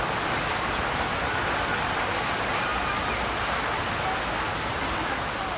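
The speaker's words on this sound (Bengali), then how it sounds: "হঠাৎ করে বৃষ্টি আসলো, অনেক শান্তি পাচ্ছি" Sudden heavy rain pours down in Bangladesh, a dense, steady hiss that stays close and loud without a break.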